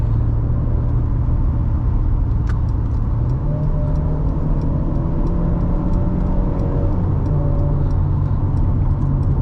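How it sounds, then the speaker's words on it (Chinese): A 2018 W205 Mercedes-Benz C200 1.5T EQ Boost, rear-wheel drive with a nine-speed gearbox, holds a steady close engine drone from inside the cabin, its pitch stepping up and down as the throttle is blipped on downshifts. "降档补油啦 ，at least 有声音好听一下啦。 你看我降档。"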